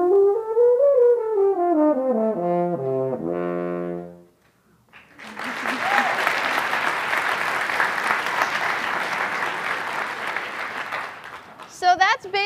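A brass horn plays a short run of stepping notes that falls in pitch, loud and close. A long burst of audience applause follows after a brief pause.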